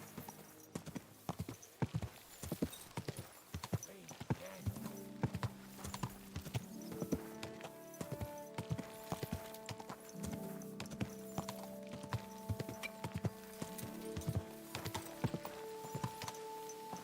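Horse hooves clip-clop steadily at a walking pace in Kingdom Come: Deliverance II, close and distinct, with a soft whinny and background game music underneath.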